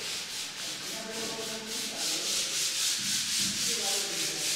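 Skim coat being worked onto a wall during guest house construction, a steady, rhythmic rubbing and scraping of a trowel or sanding over the surface, close and continuous.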